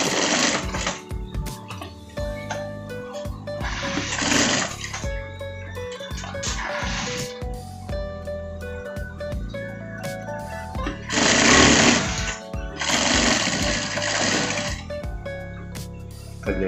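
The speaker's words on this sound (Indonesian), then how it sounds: "Kita jahit apret pas ujung sakunya." A sewing machine stitches along the edge of a parka jacket front pocket in several rapid mechanical bursts, close and clattering, with short pauses and quieter handling between runs.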